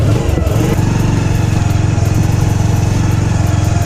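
A motorcycle engine runs steadily right after a self-start, a loud, close, even idle rumble with a brief rougher catch at the beginning and no talk.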